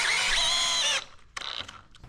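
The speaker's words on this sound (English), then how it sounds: "I'm just gonna go ahead and shoot the screws in there" A power drill drives a 3-inch decking screw into wet wood, a loud high whine lasting about a second that cuts off abruptly, followed by a shorter, quieter burst of driving.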